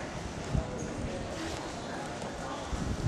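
A horse counter canters in a riding club arena, its hoofbeats forming a soft rhythmic thudding in three-beat pattern, moderately close, under faint background talk.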